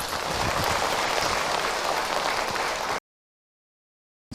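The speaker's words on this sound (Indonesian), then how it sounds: "Tepuk tangan untuk Ahilman ibu" Audience applause at an Islamic religious talk on neighbours, a steady wash of many hands clapping for about three seconds, then silence.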